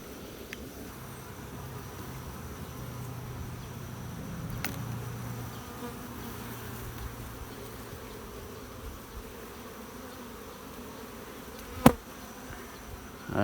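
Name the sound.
honey bees buzzing around hive boxes after a swarm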